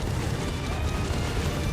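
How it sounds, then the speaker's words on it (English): An explosion at the end of a breath attack in Final Fantasy 16 gives a sustained, loud roaring blast, a thick rumbling wash that holds steady across the whole moment. "With an explosion on the end."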